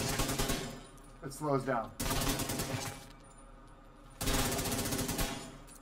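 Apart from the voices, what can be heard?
assault rifle rapid gunfire in a video game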